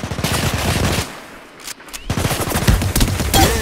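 Rapid automatic gunfire from the mobile shooter game High Energy Heroes, loud dense bursts with a short lull in the middle before firing resumes.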